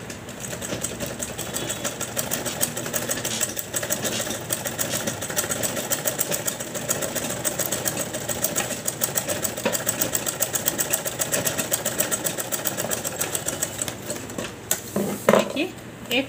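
A sewing machine stitches along the edge of a handmade cloth bag, a steady rapid mechanical chatter running throughout, ending with a few clunks near the close.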